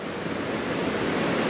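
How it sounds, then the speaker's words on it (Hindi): Fast-flowing mountain river near waterfalls in North Sikkim, a loud, steady broadband rush of churning water that fills the scene without pause. "कितना ज़्यादा यहाँ का पानी का रफ्तार देखिए, कितना ज़्यादा है।"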